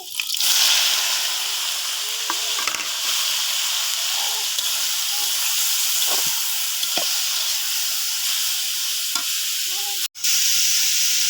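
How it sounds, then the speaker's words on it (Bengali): Garlic and leafy greens sizzle steadily in a hot pan, a loud continuous frying hiss with a few soft stirring clicks, nearly alone with little voice. "রসুনও লাল হয়ে গেছে, এখন আমি শাকটা ছাইড়া দেব"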